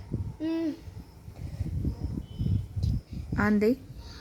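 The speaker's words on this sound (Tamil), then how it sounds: "ஆந்தைக்கு பகலில் கண் தெரியாது. அது இரவில் அதுக்கு கண் தெரியும்." Owl hoots, two clear tonal calls near the start and end, sounding over a steady run of speech-like narration in between.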